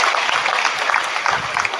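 An audience at a Gujarati speech event by Sairam Dave breaks into steady, dense applause, with many hands clapping at once in a full, continuous burst.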